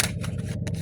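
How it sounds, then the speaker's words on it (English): Tarot cards are shuffled inside a parked car, giving a quick burst of soft riffling and flicking, close and fairly quiet, with no talking. "We're going to shuffle this one more time."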